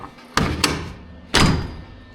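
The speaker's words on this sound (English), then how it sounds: "But when I shut the door" A Jeep door is shut on a rebuilt door frame: three solid thuds, two close together and then a heavier one, loud and near with no talking.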